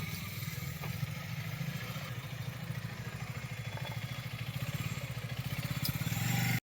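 A motorcycle engine, one of a Kawasaki Ninja 650, KTM RC 390 or Duke 390, idles with a steady, throbbing low rumble that holds level throughout, picking up slightly toward the end.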